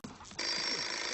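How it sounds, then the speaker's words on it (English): A telephone bell rings loudly in a Sesame Street scene, a steady sustained ring that starts abruptly partway through and continues to the end, following a brief stretch of background noise. "The phone. I'll get it!"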